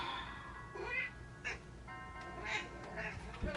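A cat meows several times indoors during a home brow routine, short repeated calls rising and falling at moderate volume over a quiet room background.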